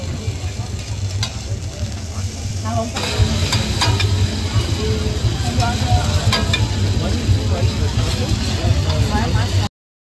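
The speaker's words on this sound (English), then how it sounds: "the Thai crispy pan fried mussels with egg, as this lady is expertly making right here" Thai crispy pan-fried mussels with egg frying at a street stall in Hua Hin, Thailand, give a steady loud sizzle with scraping and stirring of a pan. The sizzle swells after a few seconds, with a low engine-like hum and a voice under it.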